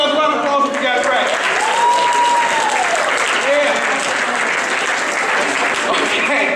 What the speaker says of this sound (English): give yourselves a round of applause if you got it right